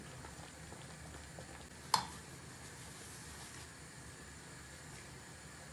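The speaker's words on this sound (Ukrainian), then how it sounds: "І знову варимо 15 хвилин. Повторюю на середньому вогні, періодично помішуючи." A pot of jam simmers on medium heat, giving a faint, continuous low bubbling hiss with one brief clink partway through.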